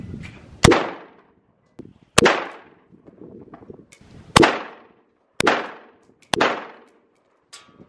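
Five loud, sharp SKS rifle shots ring out at uneven intervals, each with a short echoing decay. A few fainter pops fall between them, and no one speaks.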